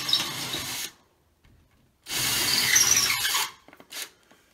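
A power drill bores into a bathroom wall beside a stud to mount a towel rack, running in two loud bursts of whirring grind separated by a pause, then a short final spurt.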